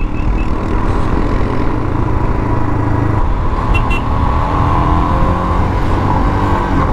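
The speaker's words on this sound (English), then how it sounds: "Already I've got a car behind me trying to overtake me." A car closes in behind a Royal Enfield Himalayan motorcycle to overtake on a winding mountain road, steady loud engine and wind roar throughout, with no clear single pass-by standing out.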